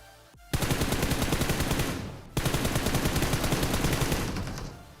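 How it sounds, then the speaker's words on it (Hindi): Automatic gunfire in the BGMI mobile battle royale game comes in two long, rapid bursts of loud, evenly spaced shots, split by a brief gap, close and without talking. "मैं इसको फायर करता हूँ कि भाई प्लीज़ तू जा या फाइट ले ले"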